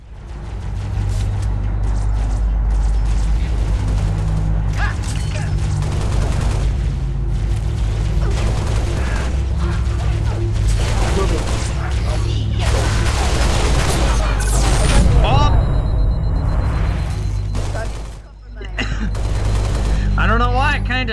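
Heavy gunfire in Halo: Reach while securing a mining facility: loud, near-constant rattling bursts and booming shots with a deep rumble underneath, a brief lull near the end, and a player talking over the action.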